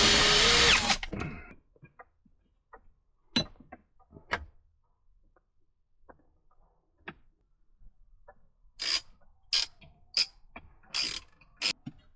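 Short bursts from a power drill driving a screw into a console trim panel on a Land Rover Defender fitted with Raptor Engineering parts, opening with a loud run, then sparse clicks and several quick whirring pulses near the end, with no talk.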